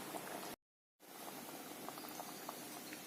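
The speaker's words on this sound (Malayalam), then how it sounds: "കോൺഫ്ലവർ കലക്കി ഒഴിക്കുന്നു." Cornflour slurry poured into simmering beetroot chilli, a steady bubbling boil with soft liquid patter, briefly cut to silence partway, then continuing close and moderately loud.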